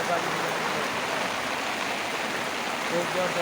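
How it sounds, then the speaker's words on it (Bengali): Heavy rain falling outdoors, a dense, continuous roar of steady downpour, loud and unbroken throughout. "বৃষ্টি হচ্ছে বাইরেতে এত বৃষ্টি হচ্ছে"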